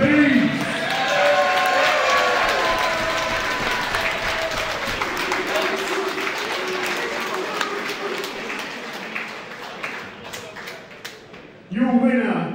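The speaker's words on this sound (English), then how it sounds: "Guys, another round of applause for you two warriors, please!" Sustained applause and clapping from a crowd honouring two heavyweight fighters after an amateur boxing title bout in a cavern venue, a dense steady roar that fades slightly, with an announcer's voice over it and a loud burst near the end.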